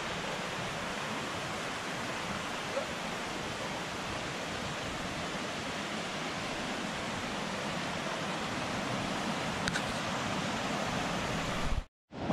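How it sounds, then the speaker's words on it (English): A small forest creek along the Dosewallips River trail in Washington flows steadily, a continuous broadband rush of water heard close and unbroken, cutting off abruptly at the end. "Beautiful little creek."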